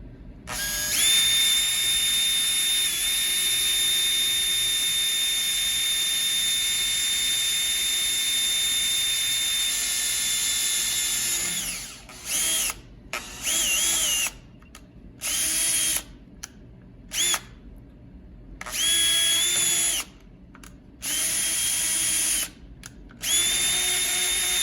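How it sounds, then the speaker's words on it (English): A power drill with cutting oil on the bit bores into a car frame, first in one long steady high whine, then in a series of short on-off bursts separated by pauses. "We are drilling into a frame after all."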